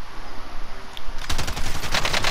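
Automatic gunfire in the video game Call of Duty: Modern Warfare, starting after a low rumbling lull as a loud, rapid burst of shots that keeps rattling to the end.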